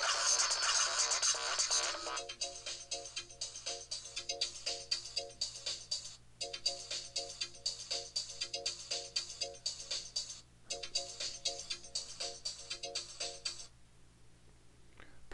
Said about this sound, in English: Every time you select one of these ringtones, it will preview that ringtone so you can hear it.